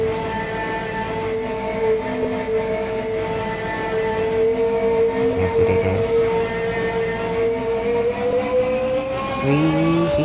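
A new, fast train runs on the rails toward Bad Spa, a steady rumbling ride with droning harmonic motor whine that rises slightly in pitch, carrying on continuously from start to finish.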